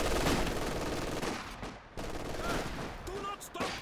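Machine gun fire in a Company of Heroes 2 2v2 match, with continuous dense battle noise and rapid gunfire bursts layered over a busy mix of in-game effects throughout.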